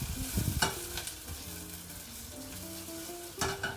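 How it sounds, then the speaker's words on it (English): Onions sauteing and being stirred in a frying pan during a cooking competition, a steady close sizzle with scraping stir strokes and occasional utensil knocks against the pan. "you just want to saute your onions for a while"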